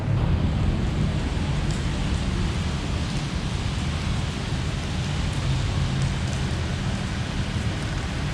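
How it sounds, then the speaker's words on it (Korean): Steady rain falls through an evening in Pontianak, Indonesia, a dense and even hiss that holds constant throughout with no voices. "비가 계속 오네요"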